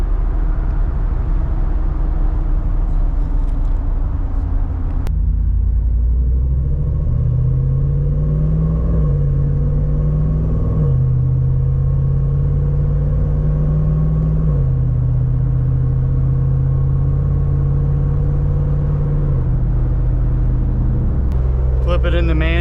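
A Jeep with a swapped Hemi engine cruises on the highway at about 55 mph and low revs: steady low engine drone and road rumble from inside the cabin, with someone talking over it.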